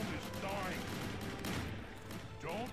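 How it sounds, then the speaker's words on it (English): Continuous gunfire rattles through a battle in the Transformers: Dark of the Moon video game, a dense steady barrage with shouted voices mixed in over it. "I can't hear you over all these bullets flying over my head."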